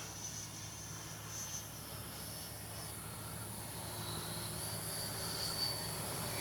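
An E-flite F-16 70mm Thunderbird RC jet flies overhead, its electric ducted fan giving a steady high whine and rushing noise that swells slightly, heard from the ground.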